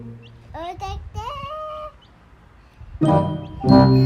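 High, thin chirps from small chicks, a few short calls early on, then denser peeping later, fairly close with some background noise.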